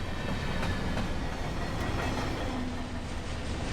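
Freight train locomotive with old power on the head end, from a sound mod in a train simulator game, rumbling continuously with rail clatter and a steady loud drone throughout.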